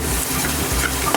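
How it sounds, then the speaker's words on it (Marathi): A spoon stirs pav bhaji spices through hot oil in a pan, giving a close, steady scraping and soft sizzle for about a second with no talking. "आता हे बघा सर्व मसाले आपल्याला व्यवस्थित मिक्स करून घ्यायचे आहेत।"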